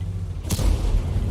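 A single booming tank cannon shot fires in a World of Tanks battle, a sharp crack followed by a low rumbling tail over steady engine hum.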